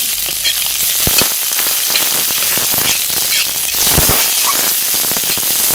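Chopped onion and garlic fry in mustard oil in a wok, a loud, steady crackling sizzle with sharp pops and spatters scattered throughout, heard close up with no talking.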